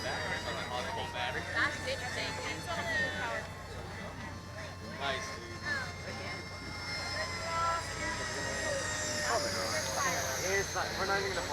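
An electric motor on a Pterodactyl model airplane runs at about half throttle on the ground at Flite Fest East, a steady whine under crowd noise and nearby voices that rises in pitch near the end.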